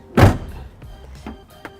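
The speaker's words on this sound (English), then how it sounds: "close the trunk of the vehicle" A 2001 Pontiac Aztek's rear hatch shuts with one loud, close thunk, followed by a few faint clicks and rattles.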